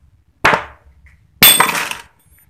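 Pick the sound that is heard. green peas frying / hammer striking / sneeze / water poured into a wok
hammer striking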